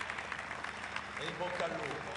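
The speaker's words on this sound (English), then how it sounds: "we have to applaud him" Brief applause from the audience at the Scuderia Ferrari F138 launch for the 2013 Formula 1 season, a soft, distant patter of clapping that sits low and fairly faint in the hall.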